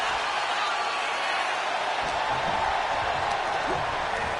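A steady, dense roar of a wrestling arena crowd in WWE 2K26 keeps up its broad cheering wash throughout, with a commentator's voice faintly over it.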